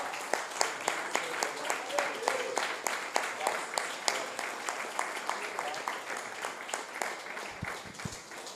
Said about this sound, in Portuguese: Vamos louvar a Deus com palmas?